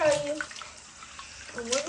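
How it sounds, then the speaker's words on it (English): Water runs from a tap for handwashing during a children's DIY science experiment, a brief splashing rush heard under a voice speaking at the start and end. "Now we're going to wash our hands with that"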